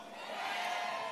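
An outdoor campaign rally crowd for Lee Jae-myung in Suncheon swells into a brief roar of cheering and applause that builds over about a second.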